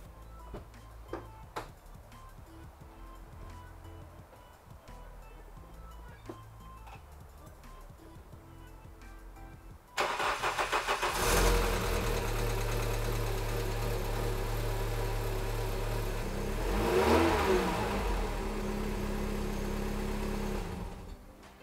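A VW Golf 3 GTI 2.0L 16v (ABF) engine with a crankshaft position sensor fault cranks and catches about halfway through, then settles into a loud steady idle with a brief swell in revs near the end.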